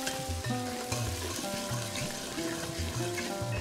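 Onions fry in a pan, giving a faint continuous sizzle beneath louder background music with a repeating low melody.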